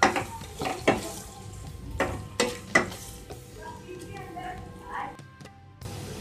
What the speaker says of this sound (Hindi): अब इसमें मैं 2 चॉप अनियन डाल दूंगी। इसे भी पिंक होने तक फ्राई करेंगे।